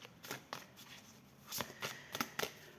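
Tarot cards being shuffled for a reading, a run of soft papery riffles and flicks that comes in irregular bursts, close and fairly quiet, with no voice.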